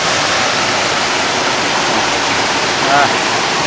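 Roro Bedayu waterfall and river in Indonesia, a loud, steady broadband rush of falling water close by, with a brief faint voice-like sound partway through.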